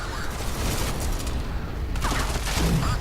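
Reaper cannon in Crysis 3 multiplayer firing a rapid burst of heavy shots, loud and close, with a thudding impact near the end.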